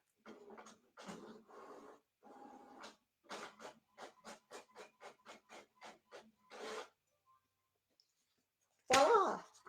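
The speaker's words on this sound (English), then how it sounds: "now you can hear my printer" A printer runs through its cycle: mechanical whirring bursts followed by a quick series of rhythmic clicking strokes, then a short pause and a louder final clunk.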